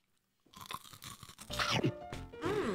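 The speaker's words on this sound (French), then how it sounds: "Ça en fait c'est un mélange entre des curly et du popcorn. Écoute-moi ça, de l'ASMR." Loud, close crunching of a curly and popcorn snack mix, with bursts of crisp bites and chewing that start after a brief silence and continue densely to the end, with no talking.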